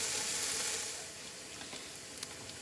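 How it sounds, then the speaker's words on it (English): Bacon frying in a pan for a home dinner, a steady close crackling sizzle with occasional pops that eases slightly in loudness partway through, with no talking. "So let me get this bacon fried up real quick"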